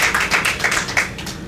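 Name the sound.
applause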